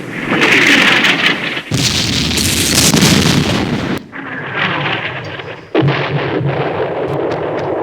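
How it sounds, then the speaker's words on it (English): An enemy artillery strike lands in the war game Campaign Series Middle East during the Arab-Israeli war Operation Condor, with loud, dense rumbling explosions and crackling blasts that roll continuously and then cut into a second barrage. "Artillery strike from the enemy."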